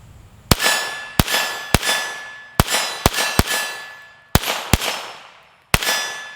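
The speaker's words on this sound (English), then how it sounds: "And click." A Colt Woodsman pistol gives eight sharp metallic dry-fire clicks at uneven intervals, each a close, bright snap with a ringing tail that fades before the next.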